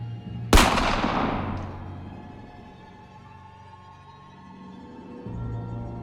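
A single loud gunshot in a Batman motion comic, a sharp sudden blast that decays into a long echoing rumble over a low background drone.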